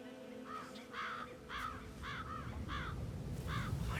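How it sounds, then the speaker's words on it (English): Crows caw repeatedly in the video game Hitman 3, a series of about eight harsh, evenly spaced calls at moderate distance over a low steady game ambience. "I'll never get rid of those stupid birds."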